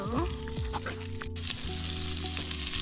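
Sliced sausages fry in a pan at a tent campsite, with a bright continuous sizzle and a steady low hum running underneath, close by and without speech.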